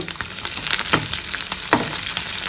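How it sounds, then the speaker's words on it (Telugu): Slit green chilies frying in a pan give a loud, dense, crackling sizzle throughout. Occasional stirring scrapes rise above it, close up and with no one speaking. "బాగా వేయించండి"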